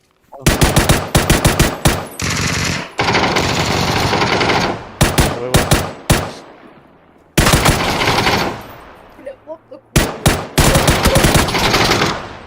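Gunfire in the video game PUBG crackles in rapid automatic bursts, loud and close. Long strings of shots are broken by brief pauses.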